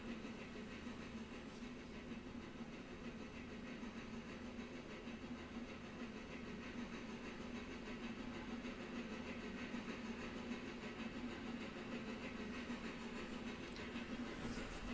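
Steady low rumble and hiss of a train in the Railroader video game, a continuous mechanical drone with a faint whistle-like tone, running evenly throughout without talk.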